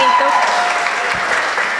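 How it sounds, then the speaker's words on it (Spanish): Steady, dense applause from a crowd fills the whole moment, a continuous wash of clapping at even loudness. "vamos a dar otro fuerte aplauso."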